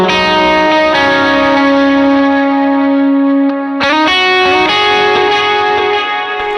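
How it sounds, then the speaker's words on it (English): Electric guitar played through a Strymon BigSky reverb pedal, sustained chords swelling into a lush, blooming reverb wash with shimmering overtones, one brief break, then a fresh strummed chord rings out and decays, loud and alone. "It just allows the reverb to feel like it's ramping up or blooming into the sound."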